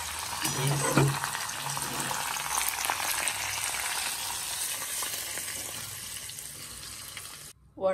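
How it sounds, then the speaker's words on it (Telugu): Mustard seeds, cumin and asafoetida crackle and hiss in hot oil as a tempering for curd vadas, a dense, continuous, close sizzle lasting several seconds before cutting off abruptly near the end. "దానికి పోపు చేద్దాం."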